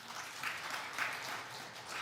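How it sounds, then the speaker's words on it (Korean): Applause from a church congregation, honouring a deaconess who hand-copied six volumes of the Bible, rising as a steady, fairly distant wash of many hands clapping, with no voices over it. "큰 박수로 한번 격려할까요?"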